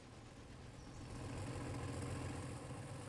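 Alco diesel locomotive idling in the Railroader video game, a steady low throbbing rumble with even mechanical vibration, holding constant and slightly swelling midway, with no talk over it.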